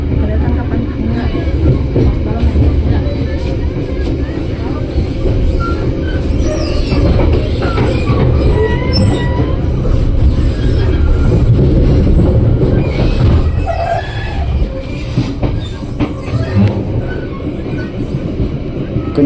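A local train on the Merak line rumbles loudly along the rails, with a steady roar, rhythmic wheel clatter and occasional squeals as it slows toward a station; voices can be heard faintly beneath the noise.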